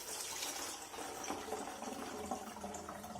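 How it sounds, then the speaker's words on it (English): Water runs steadily into a plastic spray bottle, a continuous close-up trickling and hissing fill with no voices. "and then just top it up with water"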